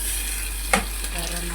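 Chili and other ingredients sizzle and crackle steadily in a hot frying pan, with a single sharp tap or scrape about midway.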